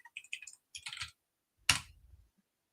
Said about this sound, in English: Let me just type out the link here.